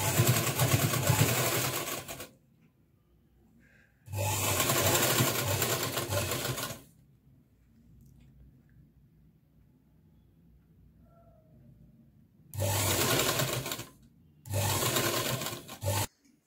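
A sewing machine stitches a 1.5-inch net cross strip onto the neckline of a party-wear frock, running in four loud, steady whirring bursts of about two seconds each, separated by quiet pauses.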